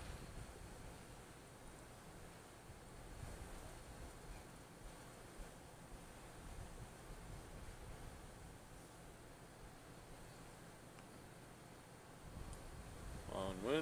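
Wind blows steadily outdoors at night, a soft continuous rushing and buffeting against the microphone that swells slightly toward the end, with no other clear sounds.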